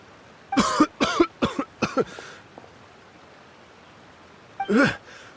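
Coughing from a Genshin Impact character choking after swallowing water: a rapid burst of five harsh, close coughs, then a pause and one more strained cough.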